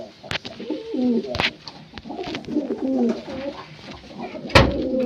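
Pet pigeons coo nearby in repeated soft, throaty rolling calls, with a few sharp knocks and clatters mixed in between the coos.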